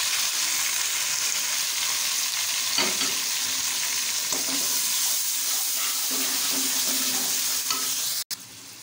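Ginger paste, tomatoes and spices fry in a pot for a white bean curry, giving a steady, even sizzle with faint stirring scrapes. It stays close and constant throughout, with no voices.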